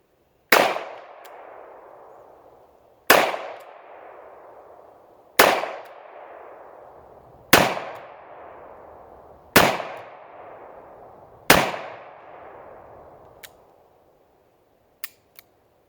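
Six sharp, loud revolver shots from an Armscor M200 firing Federal American Eagle 124 grain .38 Special rounds, evenly spaced about two seconds apart, each with a ringing outdoor decay, followed by faint metallic clicks.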